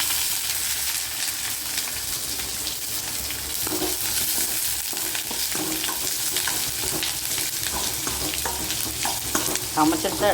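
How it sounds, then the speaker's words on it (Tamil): Chana dal and green chili fry in hot oil, a dense, steady sizzle with occasional stirring scrapes running continuously and close, with no talking. "கடலைப்பருப்பு போட்டு பச்சை மிளகா போட்டுக்கலாம்."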